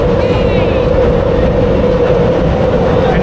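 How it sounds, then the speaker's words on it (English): A train rumbles steadily nearby as it pulls into a major station in Yokohama, with a loud, continuous low roar and a faint squeal. "you can see the train going in"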